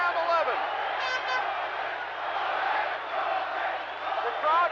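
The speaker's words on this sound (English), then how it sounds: "The crowd is yelling for Gómez, trying to exhort him on" A boxing arena crowd roars and yells steadily for Wilfredo Gómez during a WBC featherweight title fight against Azumah Nelson. The dense, sustained crowd noise rises in swells and sits under a commentator's voice.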